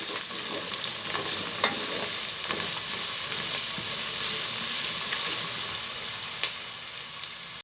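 Browned onions fry with garlic paste in a pot for matar pulao, a continuous close sizzle with frequent scraping stirs of a spoon against the metal, and no voices.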